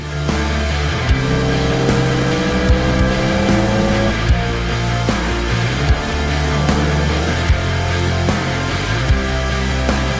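GT2 race cars competing in the Live for Speed racing game, with several engines roaring and revving together at close range, their pitches rising and overlapping alongside short tire squeals and thuds of contact.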